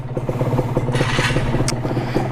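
A Kawasaki KR two-stroke motorcycle runs close by with a loud, rapid, throbbing exhaust pulse that holds steady throughout, with a brief metallic clatter partway through.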